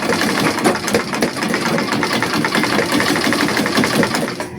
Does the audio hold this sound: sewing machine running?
yes